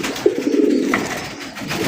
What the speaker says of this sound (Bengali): দেখেন কবুতরের ডাক দেখেন